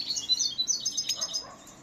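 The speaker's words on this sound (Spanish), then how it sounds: "Un pájaro que no está educado, ni mucho menos." A pet bird that has been ill and is finishing its molt chirps in a rapid run of high, bright tweets, close and clear, tapering off softly at the end with no speech.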